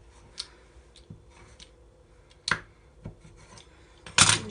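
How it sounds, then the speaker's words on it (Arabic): A knife cuts the edges off rolled dough, making several sparse scraping and tapping contacts on a board, soft single strikes with quiet gaps, ending in a louder short rasping cut. "غادي نشد هاد الموس ديالي، نقطع الطريف هنا"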